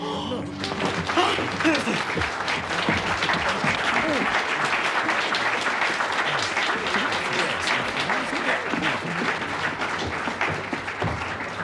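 Theatre audience at a live stage show applauding after a performance, dense continuous clapping with some cheering that fills the whole stretch at strong, even volume.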